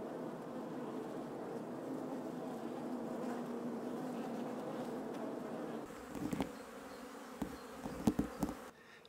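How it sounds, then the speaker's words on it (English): A steady, low buzzing hum from a bees' nest under a bathroom floor in an old chateau drones continuously, joined near the end by a few sharp knocks and thumps. "If you can hear a humming behind you, it's just the bee's nest under the bathroom floor"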